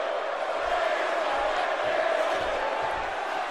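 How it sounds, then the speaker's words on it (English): A video game wrestling arena crowd in WWE 2K17 roars in a steady, sustained wash of cheering, with faint shouts mixed in. "The crowd is going nuts."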